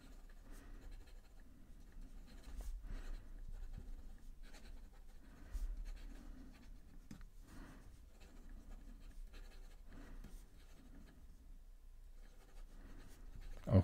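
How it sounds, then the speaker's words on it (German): A Visconti Breeze fountain pen writes quickly on paper, giving soft, close scratchy strokes in a busy irregular rhythm, faint and steady with a few sharper ticks. "Dann machen wir mal ein schnelles Schreiben."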